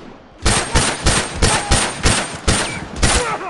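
Rifle fire in a video game rings out as a steady string of about eight loud, sharp shots spaced roughly evenly over a few seconds, close and clear with no talk over it.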